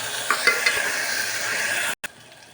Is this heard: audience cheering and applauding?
no